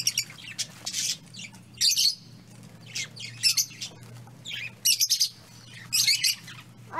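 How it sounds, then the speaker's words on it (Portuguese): Budgerigars chirp and squawk in repeated short bursts, fairly close and lively, over a steady low hum, with a few brief pauses between calls. "Periquito australiano."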